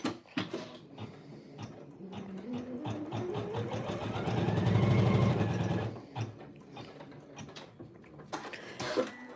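Close by, a sewing machine stitches a pieced quilt block, its motor whirring up in a rising pitch and running steadily for a few seconds before stopping, framed by scattered clicks and handling noises.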